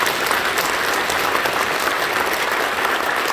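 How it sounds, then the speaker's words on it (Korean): Steady, enthusiastic applause from a church congregation during a special early-morning Holy Week prayer service, dense clapping filling the room evenly throughout with no speech over it. "박수 한번 해주시죠."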